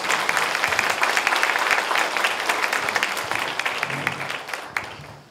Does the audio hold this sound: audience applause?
yes